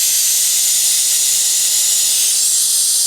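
A vacuum brake bleeder kit fitted over the opened bleed screw of a 1991 lifted Honda Civic wagon draws out brake fluid with a loud, steady, unbroken hiss of suction lasting throughout.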